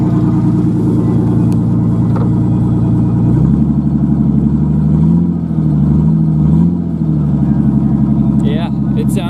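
A V6 engine with fully custom exhaust and headers idles and rumbles loudly nearby, then its tone drops and wavers unevenly as it stumbles at low revs, with people talking over it.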